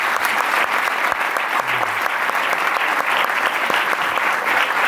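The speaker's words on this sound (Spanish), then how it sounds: "Y me encantaría que un aplauso" Audience at a lecture applauding, a dense, steady wash of clapping from many hands that stays loud and even for the whole stretch.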